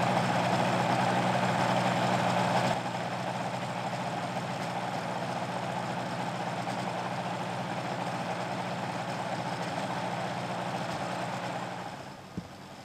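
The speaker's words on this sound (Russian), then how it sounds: "Стершат стали выгуливать рядом с работающим мотодельтапланом, чтобы они привыкали к шуму мотора." A motorized hang glider's engine runs steadily with a constant low drone, louder for the first few seconds and then settling to an even, unbroken hum before fading slightly at the end.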